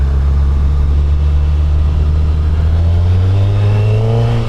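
Suzuki Hayabusa motorcycle engine running loud and close, a steady deep drone that climbs slightly in pitch as it revs, constant throughout with no speech.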